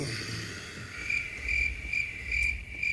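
Crickets chirp in a steady sequence of short, evenly spaced bursts, clear and close against a quiet background, with no talking.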